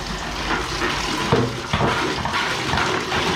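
Water rushes and swirls in a toilet during a quick rinse, a steady close wash of flowing and splashing water with no voices.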